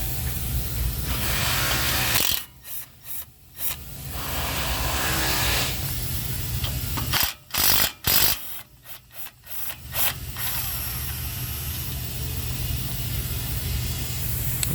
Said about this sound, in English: I'm going to take this 8mm bolt off of here and this 10mm bolt off of here